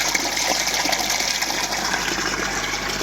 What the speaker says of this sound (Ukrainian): чекаємо щоб потекла водичка